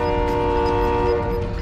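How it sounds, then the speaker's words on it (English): A video game train horn blares in a steady, chord-like tone with rumbling rail noise underneath, loud and close. "Why is the train slowing down?"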